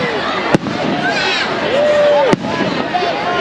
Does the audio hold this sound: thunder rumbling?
no